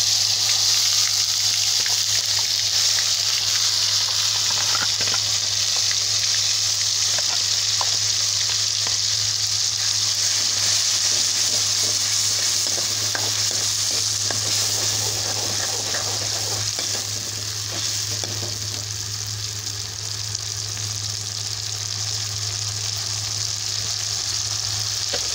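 Ground paste of tomato, onion, ginger, garlic and garlic greens frying with cumin in a pan, a loud, continuous hissing sizzle with faint stirring scrapes throughout.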